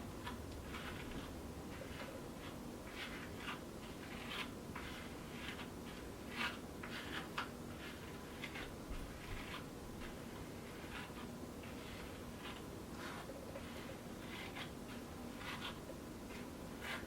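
Denman brush dragging through hair during detangling, soft repeated scratchy strokes at a steady rhythm, faint and close with no talking.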